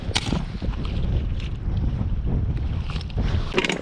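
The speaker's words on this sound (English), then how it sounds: "I wish it weren't windy today." Strong wind gusting and buffeting the microphone while ice fishing, a constant low rumble with brief louder bursts, with no voices.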